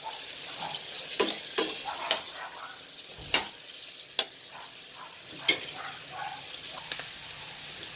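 Minced beef browning in plenty of oil in a pan, a steady close sizzle punctuated by sharp scraping clicks of a utensil stirring against the pan at irregular intervals.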